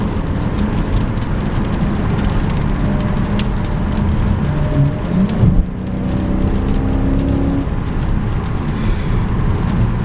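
Chrysler 300C SRT-8 with its V8 engine accelerating hard, a steady loud in-cabin engine roar with a rising rev sweep and a brief dip midway, no talk over it.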